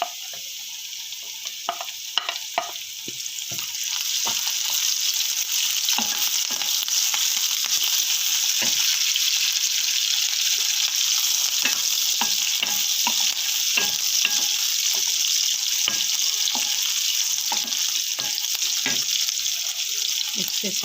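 Garlic and green chillies fry in a pan as a tempering for masoor daal, giving a steady, close, loud sizzle with scattered spoon clicks from stirring throughout and no talking.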